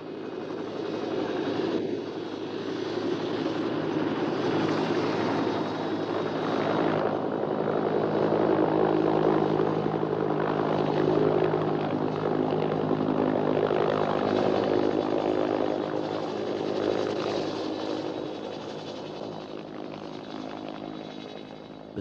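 A helicopter's rotor and engine drone steadily and loudly, swelling slightly in the middle and easing off toward the end.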